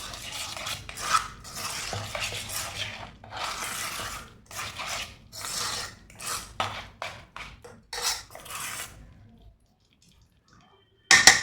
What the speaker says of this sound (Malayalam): അപ്പോൾ അത് നല്ലതുപോലെ ഒന്ന് മിക്സ് ചെയ്യാം